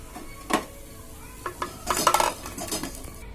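Fried palm fruit fritters (taati ponganalu) lifted out of a frying pan: a few sharp scrapes and clinks of a utensil against the pan over a faint sizzle, with no talk.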